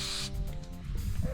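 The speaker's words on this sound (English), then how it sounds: "we're gonna spray a little bit of this rubber stuff on it" Rubber spray coating hisses from an aerosol can in a short close burst, with faint handling noise afterward, for a dollar-store houseboat build.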